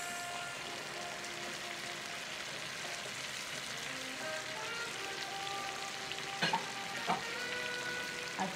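A pan of lobster for pasta sizzles steadily, then sauce goes in, bringing a few sharper splattering pops over the continuous frying hiss, close and fairly quiet with no talking.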